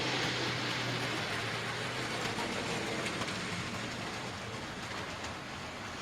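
A small model railway Terrier tank locomotive hauls two coaches up a steep gradient in a loft layout: a steady, close electric motor whir with faint rail clicking, continuous and fairly even throughout.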